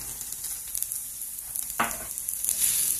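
Chili powder, pepper powder, cumin, garam masala and coriander powder fry in hot oil in a pan for egg rice, giving a steady soft sizzle with a sharper crackling flare partway through and brief stirring scrapes.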